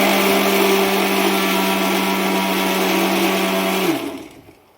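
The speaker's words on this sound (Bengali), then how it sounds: "সয়াবিনটা আমরা একটু পেস্ট করে নিয়েছি।" A mixer grinder whirs loudly and steadily as it blends soaked soybeans into a paste, holding one even pitch before winding down and falling quiet near the end.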